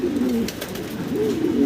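Fancy pigeons coo close by in soft, low, rolling calls that repeat a few times in quick succession.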